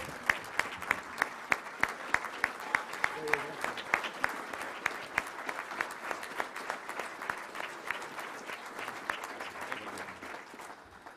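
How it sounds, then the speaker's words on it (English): Steady applause from a sizable audience at a touchdown club luncheon in Little Rock, dense sharp claps sustained throughout and gradually thinning toward the end. "Let's give a big round of applause"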